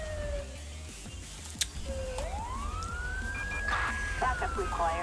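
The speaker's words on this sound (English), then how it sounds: "let's go turn off my siren here real quick" A police car siren in the video game GTA V with the LSPDFR mod wails and sweeps up and down in pitch over a steady low engine rumble, with a sharp click partway through.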